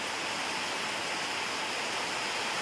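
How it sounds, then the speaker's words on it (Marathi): Heavy rain pours steadily onto a tin sheet roof, a dense, continuous roar that holds at one level throughout with no voices. "आला आहे तसा जोरातच पाऊस"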